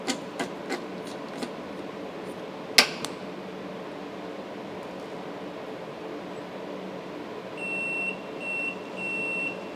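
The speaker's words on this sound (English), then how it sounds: "Once that edge finder ball touches, you can move off by one click so it stops beeping at you." Beeping from an edge finder on a CNC milling machine with a GSK 980MDi control as its ball touches the workpiece. A few faint clicks and one sharp tick come first, then soft repeated beeps over quiet machine-shop hum.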